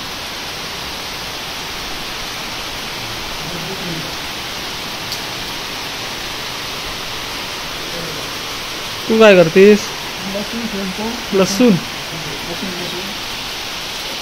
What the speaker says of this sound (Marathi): पाऊस आज लय लागतोय.